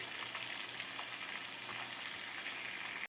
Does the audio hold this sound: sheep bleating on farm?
no